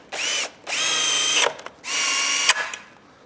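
Cordless power drill driving 100mm screws through a hinge into a timber fence post, three loud high-pitched whirring bursts, the last two ending in a strained slowing grind as each screw seats, close up with no talking.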